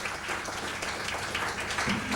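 Audience applause at a magic show, a continuous, full burst of clapping from a crowd, close and steady throughout the short moment.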